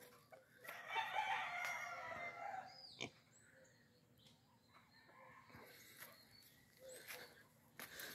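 Fighting roosters on a ranch crow once, loud and fairly close, followed by quieter clucks and a faint second crow in the distance.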